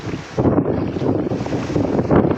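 Strong outdoor wind buffeting a microphone, gusty low rumbling bursts that rise and fall for a couple of seconds with no voices.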